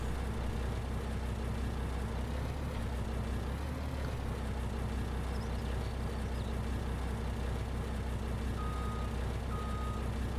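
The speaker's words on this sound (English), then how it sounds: "So just nice and slowly back this up." Truck in Farming Simulator 19 backing up slowly, steady reversing beeps sounding faintly over a low idling engine rumble, no talk.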